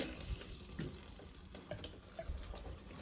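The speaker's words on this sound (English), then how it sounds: "turn on the water. Fill that puppy up with warm water." A water tap runs steadily, filling a container with warm water, a continuous splashing hiss with small clunks and knocks of the container, close by and without talk.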